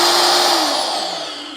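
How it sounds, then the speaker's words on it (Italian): A loud magnetic drill starts up with a brief whine, its motor pitch steady and then slowly falling off over about a second and a half. "possiamo avviare il trapano."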